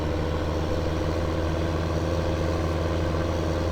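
A Case tractor engine in Farming Simulator 15 drones at a steady low idle, loud, close and unchanging throughout, with no talk.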